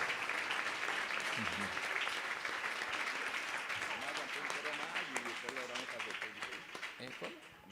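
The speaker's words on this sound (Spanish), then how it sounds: "Un aplauso para estos niños y felicitaciones a la cumplimentada." Audience in a Spanish-language church service applauding a group of children, sustained clapping over several seconds with voices and crowd murmur mixed in, fading slightly toward the end.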